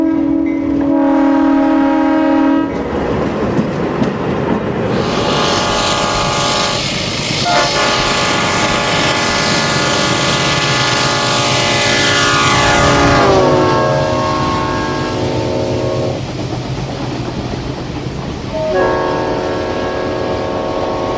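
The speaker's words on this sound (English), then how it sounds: "Here we see GE 70-tonner number 600 on a short freight" GE 70-tonner locomotive number 600 hauling a short freight on the Santa Fe Valley Division, its horn sounding in long repeated blasts over a loud engine and rolling rumble, with wheel squeal partway through.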